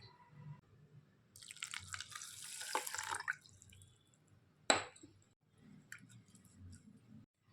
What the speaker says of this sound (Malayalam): ഇനി ഇതിലോട്ട് 1 ഗ്ലാസ് വെള്ളം ആഡ് ചെയ്യാം.